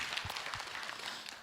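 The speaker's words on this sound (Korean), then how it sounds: "박수로 맞으세요" Audience applause at a Buddhist monk's Q&A dharma talk, a brief burst of scattered clapping with a few sharper claps standing out, fairly quiet and without speech.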